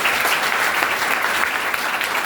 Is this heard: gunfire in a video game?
no